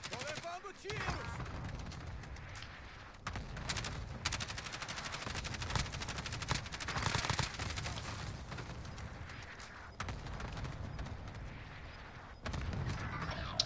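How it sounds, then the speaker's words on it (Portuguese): Gunfire rattles through a Call of Duty Warzone match, with dense bursts of automatic shots and sharp mechanical cracks, loud and sustained across the whole stretch, mixed with game sound under occasional talk. "Tô levando tiros!"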